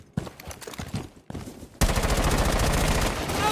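Automatic gunfire in the video game Rainbow Six Siege: a few scattered shots at first, then a loud, sustained rapid-fire burst that runs on without pause to the end, with no talk.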